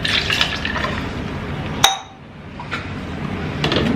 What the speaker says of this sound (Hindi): इसमें हम थोड़ा नॉर्मल वाटर डालेंगे.